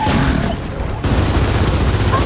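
Dense gunfire and blasts from the video game Gears of War 4 roar in a loud, continuous barrage, with a brief dip before the firing surges again.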